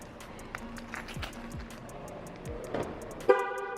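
A Jeep Renegade Sport locking, with a short faint click followed by a sharp horn beep near the end, heard nearby against quiet outdoor background.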